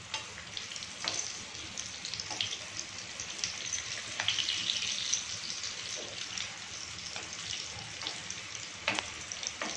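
Beetroot cutlets fry in a pan of oil over high-to-medium flame, giving a steady close sizzle with soft crackles and a few sharp pops, without any talk.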